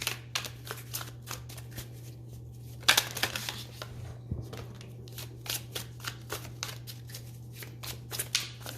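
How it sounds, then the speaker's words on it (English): Cards are riffled and shuffled repeatedly in quick, crisp bursts, up close, over a low steady hum. "One more shuffle."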